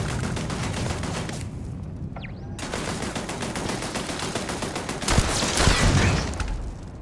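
Rapid automatic fire from turrets in a video game crackles steadily and loudly throughout, with one brief pause and a heavier burst of blasts near the end.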